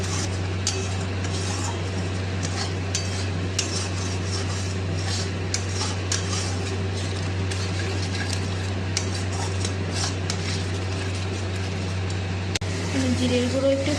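Spice paste of Kashmiri chilli powder, cumin powder and a little sugar fried and stirred in a pan for a jackfruit curry cooked with goat fat, giving a steady sizzle with scattered spoon scrapes and clinks over a constant low hum.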